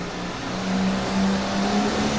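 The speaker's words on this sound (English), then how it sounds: "Mr. Nepper at the wheel with the John Deere machine" A John Deere farm machine's engine runs at a steady drone at a 1991 farm machinery show, a continuous mid-distance hum with a slight rise in level partway through, no talk.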